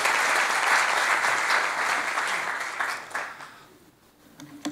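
Audience applause greeting a speaker at a military chaplaincy seminar, a dense sustained round of clapping that gradually thins and fades toward the end, leaving a few scattered claps.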